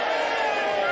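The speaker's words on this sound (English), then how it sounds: "Give Martin a nice big cheer." A crowd at an outdoor Christmas carol concert in the square cheers and applauds Martin, one of the performers. The short, dense burst of cheering and chatter is fairly loud and continuous.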